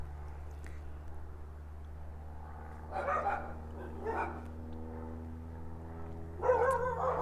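A few faint dog barks sound at a distance, spaced out over a steady low hum.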